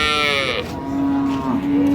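A dairy cow or calf at a rural cattle market in Raniganj, Dinajpur, gives a single loud, close moo that rises and then holds a steady drawn-out tone.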